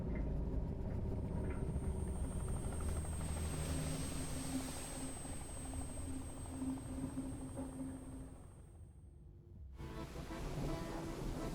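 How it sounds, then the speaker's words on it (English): A helicopter rotor spins up in the video game DREDGE, a steady droning whir that holds through most of the stretch, dips briefly near the end, then returns. "the executive boards his helicopter. Rotor's already spinning."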